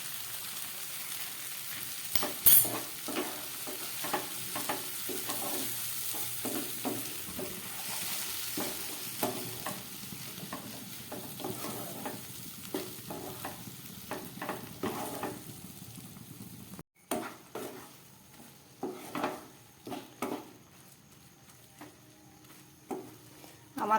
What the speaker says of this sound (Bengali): এবার আমি এটাকে 2-1 মিনিটের জন্য ঢাকা দেবো।